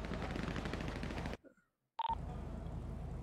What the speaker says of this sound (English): They shooting at us.